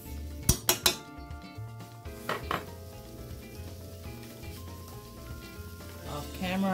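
Corned beef with chopped vegetables sizzles in a pan for a Puerto Rican root-vegetable dish. A few sharp clinks of a utensil against the pan open the clip, then a steady, close frying hiss continues underneath.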